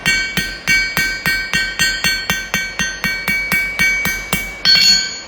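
A hammer forges steel for jewelry, ringing in a steady, even series of about fifteen bright blows, loud and close, with no voices.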